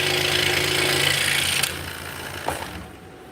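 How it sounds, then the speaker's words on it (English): A scroll saw buzzes steadily as it cuts curved lines, loud and close for about a second and a half before the blade stops and the motor winds down to a quieter hum. "this type of thing right here is what the scroll saw really shines at"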